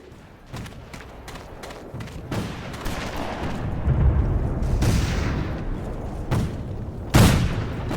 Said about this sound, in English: Use your sniper rifle to pick them off.